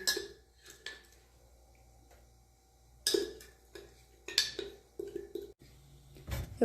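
Spoons scraping and tapping as white material is added into a frying pan, producing a few faint, sparse metallic clinks and clatters separated by quiet gaps.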